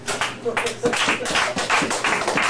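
Comedy club audience breaking into applause and cheers, a dense, loud wash of many hands clapping close by with scattered whoops, swelling and holding steady throughout.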